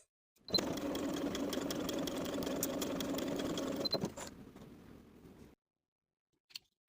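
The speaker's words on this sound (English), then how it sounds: "Sew your dart from the outside edge to the point" A sewing machine stitches a dart on a front bodice piece of a Gilbert top, running steadily for about three and a half seconds, then slowing and stopping, followed by a brief soft click near the end.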